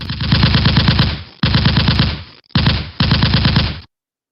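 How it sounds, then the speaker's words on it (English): Machine gun fire rattles in four long, rapid bursts separated by brief gaps, loud and close, with no other sound around it. "shrapnel, machine guns, all kind of stuff."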